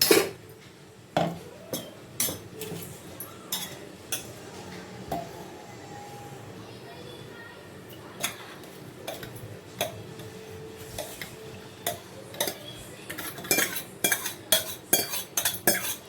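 A spoon scrapes and clinks repeatedly against a mixer jar while cooled coriander-tomato chutney ingredients are spooned in, irregular metallic taps growing quicker and busier toward the end, close and fairly quiet.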